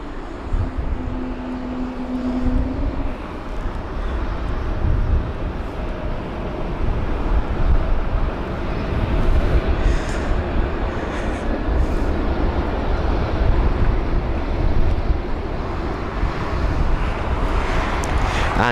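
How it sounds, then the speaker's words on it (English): Tunisair Airbus A320neo landing at London Heathrow in strong wind, a loud continuous roar of engines and rushing air with heavy wind buffeting on the microphone throughout. "So there's the Tunisair A320neo."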